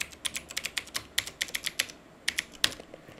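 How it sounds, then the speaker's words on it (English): A root password entered on a computer keyboard, heard as a steady, rapid run of crisp, close keystrokes with brief gaps between bursts, and no voices. "type the password again"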